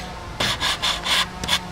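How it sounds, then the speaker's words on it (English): A sanding block rubs across the sawn end of a wooden board to smooth fuzzy fibers, five or six short rasping back-and-forth strokes in quick rhythm, close and clear. "we're going to sand off the fuzzies with our sanding block"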